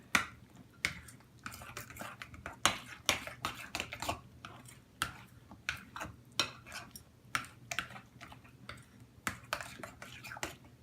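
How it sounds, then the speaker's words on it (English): A spoon stirs pumpkin pie spice into a pie filling in a bowl, making a run of quick, close, irregular clinks and scrapes against the dish that repeat throughout at a soft level. "I'm just going to kind of use this spoon to mix that in a little bit"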